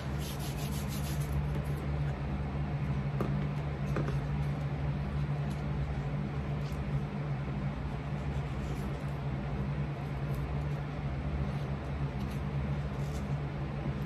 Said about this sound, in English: Let's get piece of sandpaper.